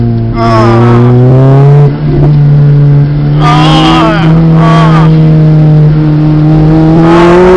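A 2005 Lotus Elise sports car engine revs hard and accelerates, its pitch climbing through several gear changes, loud and close throughout.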